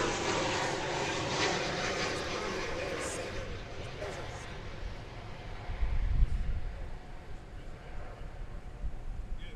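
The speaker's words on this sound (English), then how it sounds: "Bringing up the rear here is American Flight 1670 from Albuquerque, 737-800" American Airlines Boeing 737-800 at DFW Airport, arriving from Albuquerque, with a steady broad engine roar heard from behind the airport fence, swelling near the middle and continuing throughout.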